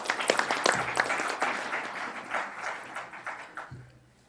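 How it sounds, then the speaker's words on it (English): Audience applause at a county Board of Supervisors meeting, a burst of clapping from a room full of people that thins out and fades near the end. "Everyone give them a round of applause."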